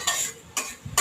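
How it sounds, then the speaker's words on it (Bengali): Onions frying in a pan after potatoes were boiled, stirred in three quick scraping bursts over a low sizzle, close up with no talking. "তারপর আমরা পেঁয়াজটাকে ভালোভাবে ভেজে নিচ্ছি"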